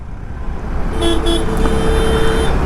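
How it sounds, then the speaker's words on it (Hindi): Heavy road traffic on an expressway extension near a signal crossing: a dense rumble of engines with several car horns honking in short overlapping toots, close and loud. "और अभी बहुत ज़्यादा ट्रैफिक है यहाँ पे"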